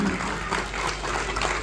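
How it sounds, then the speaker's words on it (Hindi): Audience applause at a birthday celebration for a spiritual leader in India, dense and steady clapping from a large crowd filling the whole moment at even loudness. "एक बार और तालियां मिलें।"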